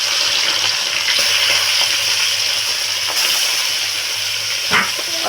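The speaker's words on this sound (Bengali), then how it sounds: "কড়াইতে সর্ষের তেল দিয়েছিলাম তেলটা গরম হয়ে গেছে এবার মাছগুলো ভেজে নেব" Fish fry in hot mustard oil in a wok, giving a loud, close, continuous sizzle with a brief clatter of stirring near the end.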